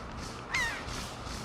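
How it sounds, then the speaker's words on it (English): A single crow caws once, short and fairly faint, in a quiet outdoor island scene from The Legend of Zelda: The Wind Waker video game. "Oh, birds."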